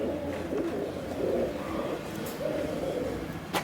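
Pigeons coo in a low, steady murmur at a Punjabi pigeon keeper's loft, with several soft overlapping calls close by and no talk over them.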